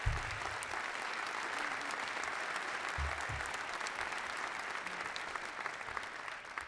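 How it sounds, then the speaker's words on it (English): Sustained audience applause at the Washington, D.C. mayor's State of the District address, an even, dense roar of clapping from a large hall audience with occasional low thumps. "Give her a big round of applause."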